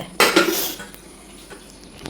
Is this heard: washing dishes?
yes